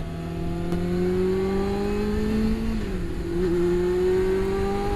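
A 1988 Yamaha FZR400 EXUP motorcycle engine on a scenic road ride, holding a steady high-pitched drone that dips briefly, then climbs again under constant wind rush.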